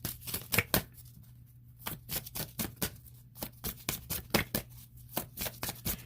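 Tarot cards being shuffled and pulled during a love reading, heard as a run of crisp, close card flicks and snaps in irregular bursts, with a steady low hum underneath and no talking.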